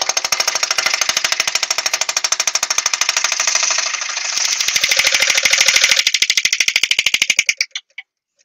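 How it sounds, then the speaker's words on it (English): A wood gouge bounces against a spalted oak platter on a lathe, giving a loud, fast, steady chatter that runs for several seconds and then stops abruptly. "let's see how this chisel does, this gouge does. Oh, that's bouncing nicely."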